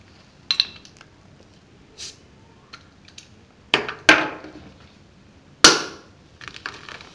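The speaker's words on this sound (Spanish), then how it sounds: "golpearemos con el mismo martillo de teflón casi inmediatamente" A Teflon hammer strikes an opened bottle of beer: a few sharp, clinking impacts ring out with short decaying tails, spread irregularly over several seconds in a quiet room.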